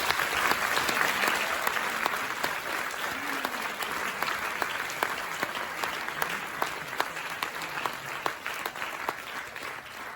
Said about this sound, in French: je vous propose de l'accueillir avec vos applaudissements